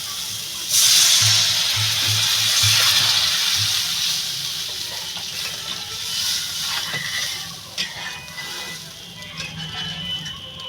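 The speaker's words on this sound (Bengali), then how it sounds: "পরিমাণ মতো জল দিয়ে দেবো" Water is poured into a cooked-down spice paste in a pan for a Bengali tengra fish curry, a loud hissing gush at first that settles into softer sizzling and bubbling.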